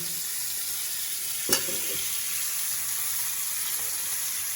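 Fish frying in a pan with black cumin and green chilli, a steady close sizzle with a brief clatter near the start and no talk.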